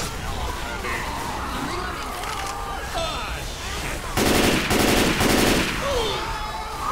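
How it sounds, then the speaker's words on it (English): Rapid bursts of automatic gunfire in the video game Left 4 Dead 2, loud and dense in the second half, with players shouting and talking excitedly over the game sounds. "Shoot, shoot, shoot. Somebody shoot."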